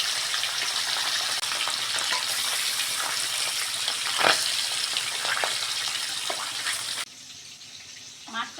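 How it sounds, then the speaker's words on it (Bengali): Steady, loud sizzling of fish frying in hot oil, a dense crackle throughout that drops away abruptly near the end. "ঢাকা দিয়ে মাছটা ভেজে নাও"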